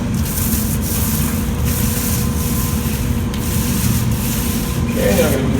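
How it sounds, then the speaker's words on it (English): A roller rubs steadily back and forth as it back-rolls epoxy across an indoor concrete floor, giving a continuous soft scraping texture with no talking. "just back roll each way the epoxy"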